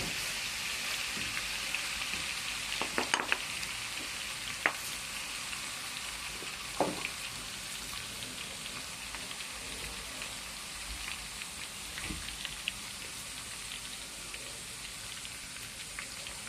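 Garlic, mustard seeds and cumin sizzle in hot tempering oil for a pickle, making a dense crackling fry with scattered sharp pops and spits, close and continuous without any voices.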